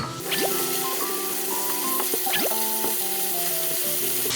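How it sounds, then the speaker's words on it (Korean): Pasta noodles sizzle in a pan with garlic and oil for aglio e olio, a steady frying crackle with light scraping and stirring noises on top, close and fairly loud, no voices. "어떤 파스타 면을 같이 넣어서 일단 한번 익혀줄 거예요."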